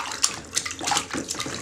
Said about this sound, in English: Do you remember how to splash?